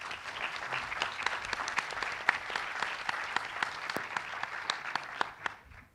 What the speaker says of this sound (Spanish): Los recibimos con un aplauso.